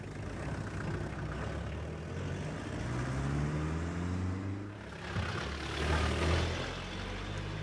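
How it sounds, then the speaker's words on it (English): A taxi engine running and pulling away, a steady close rumble that rises in pitch as it accelerates, alone with no voices. "No one knows whether this man returned to the cab or whether there was another passenger in the taxi as it drove off in the direction of Mowcop."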